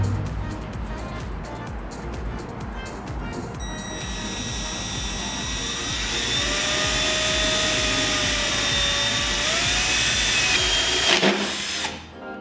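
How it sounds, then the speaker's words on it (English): A power drill with a 3/4-inch bit boring a hole through a fan mount held in a vise, a loud sustained whine that rises and shifts in pitch as it cuts, then cuts off abruptly at the end. "using a 3/4-inch drill bit, we're gonna drill a hole."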